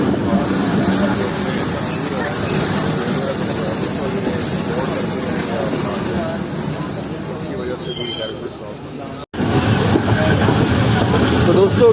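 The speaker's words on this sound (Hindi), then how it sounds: "हमारी ट्रेन अब शहनाजपुर से चलने के बाद इस वक्त स्किप कर रही है लुंडो रेलवे स्टेशन को।" Zikriya Express passenger train runs past Lundo railway station, a loud steady rumble of wheels on rails with a long high wheel squeal, heard from on board, then a sudden brief dropout before the rumble resumes.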